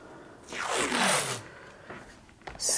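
Tape pulled off a roll during an entryway wall renovation: one quick ripping screech lasting about a second, close and clear, followed by faint handling noises and a short final tear.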